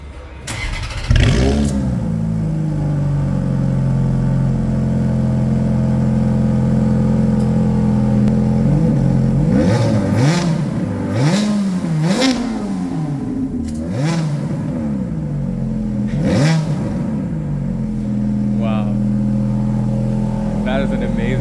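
A 2006 Ferrari F430's 4.3-liter naturally aspirated V8 starts up and idles, then gives a series of loud, sharp revs that rise and fall several times, close by with someone talking over parts of it.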